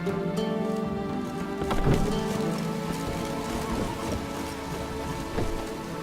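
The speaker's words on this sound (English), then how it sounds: "Oh, it's drizzly." Rain falls steadily in The Witcher III: Wild Hunt, a dense patter that swells with a louder wash partway through, set against a low continuous ambient hum.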